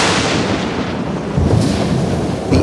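Thunder from a thunderstorm: a loud, continuous low rumble that rolls on steadily for a few seconds, swelling slightly midway and again at the end, with no voices.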